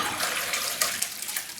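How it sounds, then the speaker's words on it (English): Bone broth stock pours steadily into a bowl, a close, continuous liquid splashing and trickling with no voices. "we'll just pour the rest of this into here"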